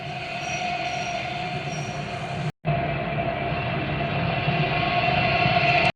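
Steady, loud train noise with rumbling wheels and a squealing, hissing edge, played back for a headphone noise-cancelling test; it runs continuously, broken only by a momentary dropout midway.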